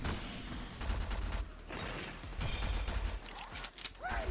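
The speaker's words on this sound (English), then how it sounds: "Flurry of bullets." A flurry-of-bullets attack in the game Steel Carnelian erupts as a dense, rapid fusillade of gunfire bursts, loud and continuous with brief dips between volleys.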